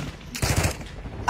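Rapid gunfire bursts and explosions from a video game ring out loud and close in two short clusters, with no talk over them.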